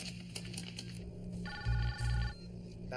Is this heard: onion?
no